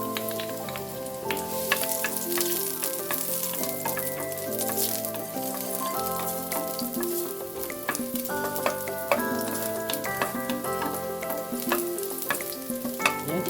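Garlic sizzles in hot coconut oil, a close, steady crackle with scattered pops, while tonal music plays loudly over it throughout.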